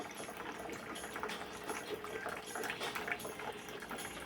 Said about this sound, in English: It makes that gurgling sound.